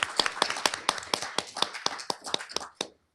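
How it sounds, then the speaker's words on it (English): Applause from an audience at a Harvard Divinity School panel, a short burst of sharp, uneven claps from a modest crowd that thins out and stops after about three seconds. "Big round of applause for"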